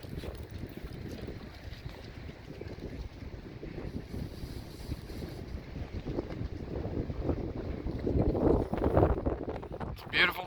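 Gusty wind buffets the microphone with low rumbling roars, rising stronger toward the end, along with faint water and outdoor ambience.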